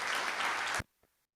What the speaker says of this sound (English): Please give them once again a big round of applause